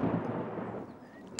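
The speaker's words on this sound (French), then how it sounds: "C'était le tonnerre, Peppa." A low, distant thunder rumble rolls through a Peppa Pig cartoon scene and fades slowly over a second or so, with no talk over it.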